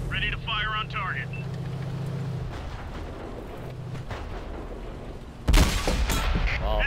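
A tank cannon fires in World of Tanks: one sudden, loud blast near the end breaks through low engine rumble, with voices talking beforehand.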